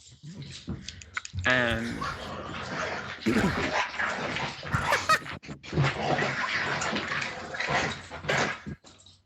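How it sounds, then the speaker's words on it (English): Dogs barking, yipping and whimpering in a chaotic mix at moderate distance, overlapping with people talking and laughing throughout. "It sounded like you had a dog tornado go through it."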